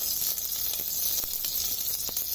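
Cumin seeds and slit green chillies sizzle in hot oil, making a continuous bright crackling hiss with scattered pops, close by and without talk.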